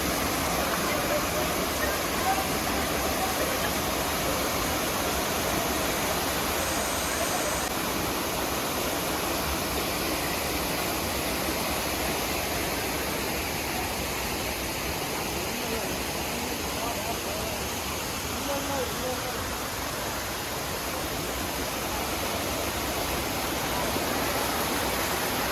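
Water from the Sitraruvi falls at Courtallam rushes in a steady, loud, broadband roar that holds unbroken throughout.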